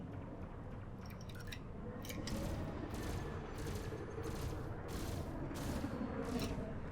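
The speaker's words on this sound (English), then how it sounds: "I got some weapons fire going on down here." Weapons fire during space combat in the game Elite: Dangerous, heard as repeated crackling bursts of shots. The bursts come in an uneven rhythm over a steady rumbling background and sound somewhat distant.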